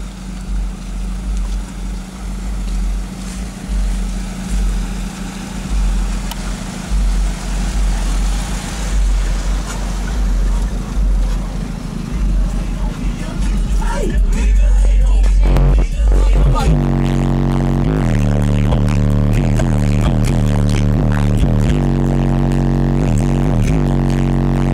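Kicker CVR 12 and Comp 10 subwoofers thumping heavy bass inside a car, loud and close, with a sustained rumble building up and pulsing bass notes taking over in the second half.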